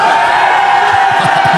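A crowd at the Creative Pro Wrestling Academy cheers and hollers loudly, a dense wash of voices with a few whoops rising near the end.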